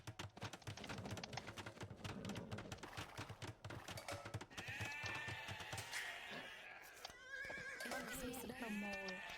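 Horse neighing in an Age of Empires style real-time strategy game, a high whinny with bleating sheep-like calls over battle clatter and rhythmic unit sounds, while commentators talk throughout.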